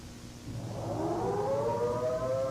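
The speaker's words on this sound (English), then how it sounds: "steady blast on the civil defense sirens or other warning devices" A civil defense siren sounds the long, steady attention alert signal, a rising wail that climbs in pitch and then holds a sustained tone at moderate loudness with no voices over it.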